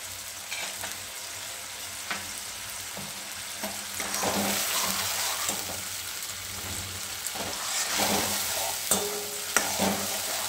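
Ground spice paste fries in oil with a spoonful of salt for a rajma curry, a constant sizzle with frequent stirring scrapes and clinks, no talk.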